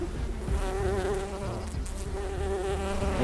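A swarm of bees buzzes loudly and steadily around an old nest as it is taken down, a dense, continuous drone close by with no talking.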